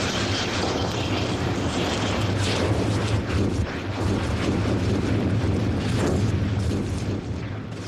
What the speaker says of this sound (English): Trapped gases explode to freedom.